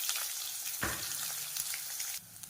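Mustard seeds, curry leaves and chopped small shallots sizzle steadily in hot oil for a tempering, a loud, continuous close frying crackle that drops in level near the end.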